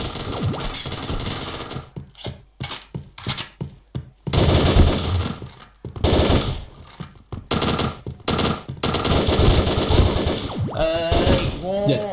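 Gunfire in the online shooter Point Blank, loud bursts of automatic fire and single shots in rapid clusters, with clattering impacts and brief gaps between them.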